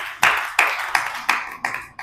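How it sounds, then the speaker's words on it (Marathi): An audience at a devotional discourse claps together in six loud, evenly spaced beats, close and clear with no talk over them. "ताईंसाठी टाळ्या वाजवा बरं एक."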